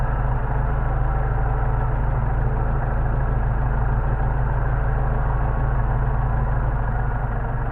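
A Mercedes 190SL's carbureted engine idles steadily up close at about 800 rpm, a loud, even low rumble with a constant rhythmic throb and no voices.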